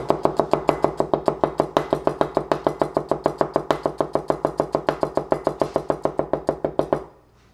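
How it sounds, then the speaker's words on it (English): Rapid, evenly spaced cleaver taps on a cutting board while thinly slicing a shallot, dozens in a steady fast rhythm, close up, stopping abruptly at the end. "show you precision work with the cleaver up front. The small shallot here."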